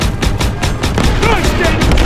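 Rapid, dense bursts of rifle and machine-gun fire from a World War II battle in Call of Duty WWII, loud and continuous throughout, with shouted voices mixed in beneath the shooting.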